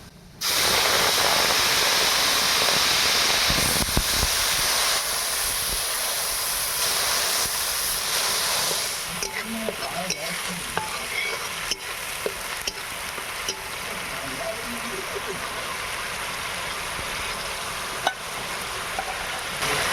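Onion and green chilli paste hits hot oil with nigella seeds in a pan, setting off a loud, steady hissing sizzle that eases after several seconds into quieter crackling with occasional pops and stirring clicks, close up with no talk.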